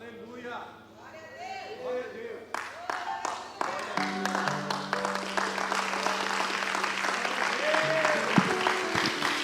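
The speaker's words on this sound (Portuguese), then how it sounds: "Alguns aplaudiram, outros não," A church congregation breaks into scattered clapping that swells into steadier applause, heard under a preacher's voice and sustained organ or keyboard chords.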